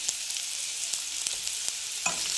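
Grated ginger, chopped tomato and slit green chillies hit hot oil with frying potatoes, giving a steady bright sizzle with a few sharp spits and pops, close and alone with no voices.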